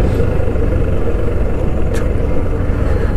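A car drives steadily on a mountain road toward Chopta, heard from inside as a loud, continuous low rumble of engine and road noise with no pauses.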